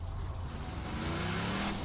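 Car engine in the Borderlands 2 video game, a steady low drone with a rising whine toward the end as the vehicle revs, loud and alone without talk.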